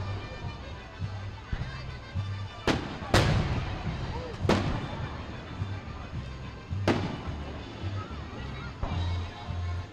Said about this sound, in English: it's an honor and privilege to be narrating these fireworks with you